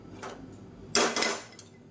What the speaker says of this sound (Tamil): இப்போது நான் வேறு ஒரு கடாய் வச்சுக்கிறேன்